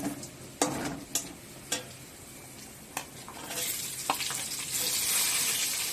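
Onions sizzle in hot oil in a pan for a Bengali fish curry, with a spatula clicking and scraping now and then, and the frying hiss swells louder partway through.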